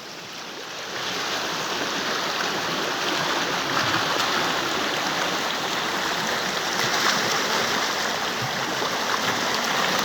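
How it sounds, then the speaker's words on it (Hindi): Dark meltwater from melting snow rushes through a stream at night, a steady broadband roar of flowing water that swells in after the first second and holds continuously, close and loud with no voices. "ये काला काला पानी नदी नालों में आ गया है बर्फ़ पिघल कर।"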